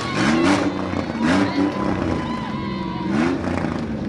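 Race car engines rev at a fairground baja oval race, rising and falling in loud bursts with a crowd murmur underneath. An announcer talks over the engine noise.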